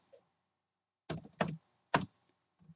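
A few separate keystrokes on a computer keyboard, entering a Fibonacci extension level while charting the stock market: three sharp clacks close together, then a soft tap, close and clear against a quiet room.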